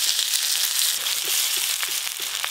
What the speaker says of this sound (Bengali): পেঁয়াজ কুচি একটু ভাজা ভাজা হয়ে গেছে